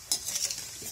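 Kachri (tilori) frying in hot oil, a brief bright crackling sizzle with a light stirring scrape, close and moderately loud with no voices.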